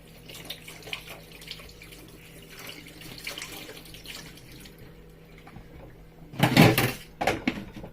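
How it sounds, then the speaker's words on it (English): Water runs from a kitchen tap as Scotch bonnet peppers are washed and rinsed, giving low background clatter that ends in two short, loud splashing gushes near the close. "I'm going to wash, rinse, and then put."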